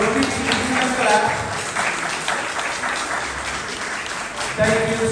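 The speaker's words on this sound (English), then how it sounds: "Have a standing, applauding ovation" A crowd at a Fourth of July celebration in New York gives a standing ovation, with steady massed clapping and voices mixed in throughout.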